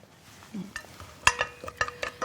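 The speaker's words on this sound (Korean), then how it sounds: "참기름을 좀 이렇게 부으세요. 분 상태에서 마늘을 같이 이렇게 좀 볶으시고요." Garlic stir-frying in sesame oil in a pan, with a faint low sizzle and several sharp utensil scrapes and taps against the pan, loudest in the second half.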